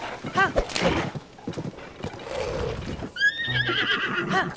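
A horse in The Legend of Zelda: Tears of the Kingdom whinnies loudly and close, with one neigh early on and a longer, wavering call near the end, amid busy game sounds.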